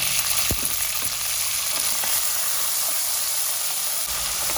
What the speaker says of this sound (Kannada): ರಾಜ್ಮಾ ಕೂಡ ಎಣ್ಣೆಲಿ ಚೆನ್ನಾಗಿ ಫ್ರೈ ಆಗ್ತಾ ಇದೆ